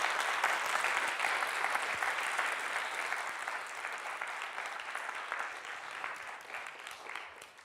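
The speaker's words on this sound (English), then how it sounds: "please give another round of applause" Sustained audience applause in a university auditorium at a TEDx event, a dense steady patter of many hands that stays loud and then slowly tapers toward the end, with no talking over it.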